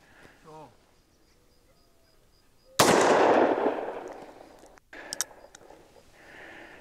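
A single loud, sharp blast from a Ruger Super Redhawk Alaskan .454 Casull revolver, decaying over about a second in an outdoor setting, followed by quieter handling sounds.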